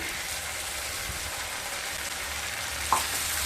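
Spice paste of black mustard, poppy seed and green chili added to a pan for bitter gourd chorchori, sizzling with a steady, fine, hissing fry and one small clink near the end, close and continuous.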